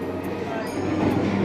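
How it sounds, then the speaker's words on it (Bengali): A local train pulls out of platform 4 at Howrah station, giving a steady, close, continuous rumble that swells slightly toward the end. "আর 4 নম্বর থেকে আমাদের লোকাল ট্রেন বেরিয়ে গেল হাওড়ার"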